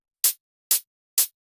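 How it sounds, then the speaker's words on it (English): Three short, crisp electronic hi-hat ticks sound at an even pace, bright and hissy with quick decays, quiet and isolated with silence between. "and some hi-hats as well"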